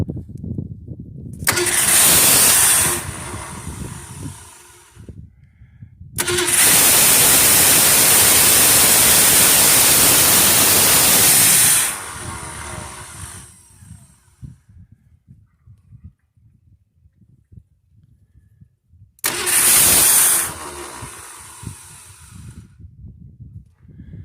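An old Ford Fairlane engine cranking as it tries to start, three loud bursts of starter churn, the middle one long and sustained, separated by quiet gaps, without the engine catching.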